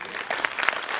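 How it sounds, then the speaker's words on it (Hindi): An indoor audience applauding at a business talk, dense continuous clapping throughout, fairly loud and close. "जोरदार तालियां होनी चाहिए।"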